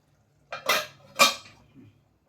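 Two clinking, scraping strokes of a spoon in a pan as fish curry is gently stirred, followed by a faint softer touch, with quiet between.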